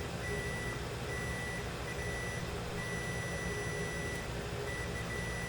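A multimeter set to continuity mode beeps steadily while its probes test a short on a Samsung A20s phone board, a thin high tone held in long stretches with brief gaps over a constant background hum.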